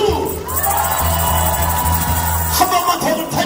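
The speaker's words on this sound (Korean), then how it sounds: "베이스에게 박수!" Crowd at a left-right-centre coalition rally with a live band cheers and shouts continuously, a loud dense roar with whoops rising near the end.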